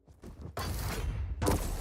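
Railgun fire in the arena shooter Quake during a pro league match: two sharp, loud blasts with a bright crackling tail, one at about half a second and another near 1.4 seconds, over dense game noise with no talk.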